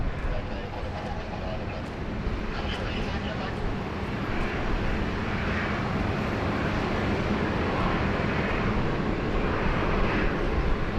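An Emirates airliner approaching Sydney Airport gives a continuous, loud jet rumble that builds gradually across the whole stretch, with someone talking over it.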